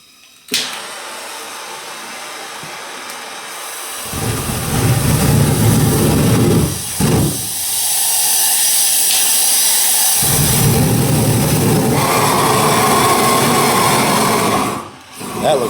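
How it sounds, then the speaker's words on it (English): A handheld torch roars and hisses loudly as it heats an old vehicle wrap, cutting in and out in long bursts with brief quiet gaps between them. "Is use that torch, I call it a flamethrower."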